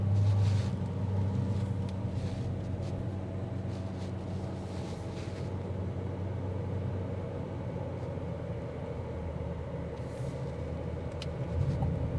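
A 2026 Chevrolet Equinox Activ with front-wheel drive and an 8-speed automatic transmission heard from inside while driving, a steady low engine and road rumble throughout with no talk.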